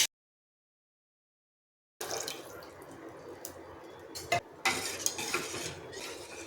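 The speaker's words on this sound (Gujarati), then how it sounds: "બે મિનિટ આપણે એને હલાવીશું।" A spoon stirs gram flour blended into buttermilk through okra kadhi in a pan, giving soft, continuous scraping and sloshing with a few sharper clinks, after an opening stretch of silence.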